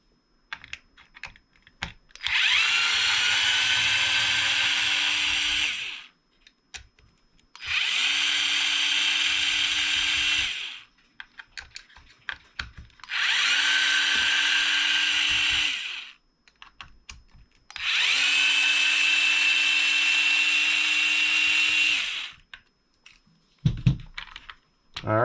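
A power screwdriver backs four screws out of a Traxxas Mini Maxx RC truck in four separate whirring bursts of several seconds each, close and loud, with small clicks and handling noises in the gaps.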